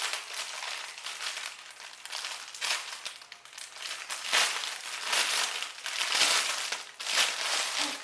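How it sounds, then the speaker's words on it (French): A Christmas decoration is pulled out of its wrapping paper, giving continuous close crinkling and crumpling in several bursts that swell and fade, with no talking. "Je vais l'enlever du papier."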